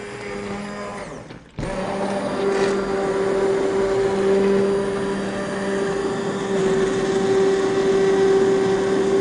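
Blender running in a pot of soup: after a brief cut-out, a loud, continuous motor drone resumes and holds steady, with a faint grinding texture.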